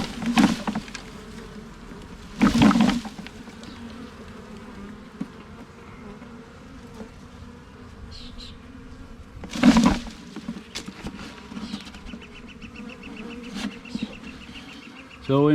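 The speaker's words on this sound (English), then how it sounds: "I found a little swarm inside here." A small honey bee swarm hums in a steady, fairly quiet drone, with a few louder bursts as bees fly close past.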